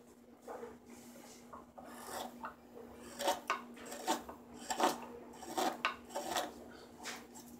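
A carving tool scoops out very dry mulberry wood to hollow a kuksa cup, giving repeated close, scraping rasps in an uneven rhythm over a faint steady hum.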